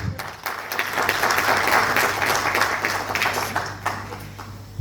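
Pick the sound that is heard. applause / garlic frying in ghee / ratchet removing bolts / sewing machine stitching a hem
applause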